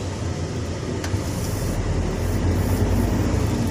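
Hino 500 truck mixer diesel engine pulling away in first gear: a steady low rumble that swells slightly as the truck moves off, with no talk.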